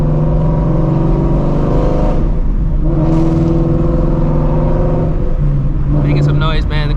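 Ford Shelby GT350 running on E85 fuel, its engine loud and revving steadily while driving, with low harmonic drone rising and falling over several seconds; someone talks over it.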